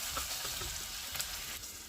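Dal tempering sizzles and crackles steadily in hot oil as it is stirred and fried until brown, the close, continuous frying noise broken by faint scraping of the spoon.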